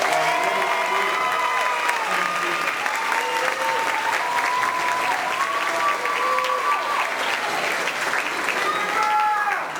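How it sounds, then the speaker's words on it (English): Sustained audience applause at a Team G promotional ceremony, a full, steady roar of clapping with scattered cheers and voices of the crowd mixed in over the whole stretch. "Let's hear a round of applause for"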